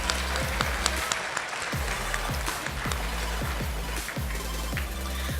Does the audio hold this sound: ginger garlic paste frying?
no